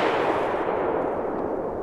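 A firework rocket from a TOTAL PXR303 set bursts outdoors with a loud, dense roar that rolls and fades slowly over nearly two seconds, with no voices.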